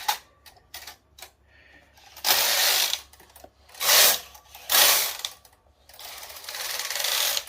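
A Brother KR230 knitting machine carriage slides along its needle bed in several separate strokes, each a loud, close rattling glide, with short pauses and clicks between them.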